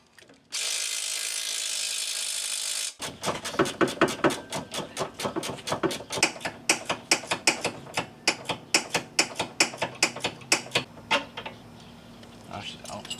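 Ratchet wrench backing out a bolt on a Ford Fiesta ST during a suspension coilover install, a steady run of sharp, close clicks after a brief hiss, fairly loud with no talking.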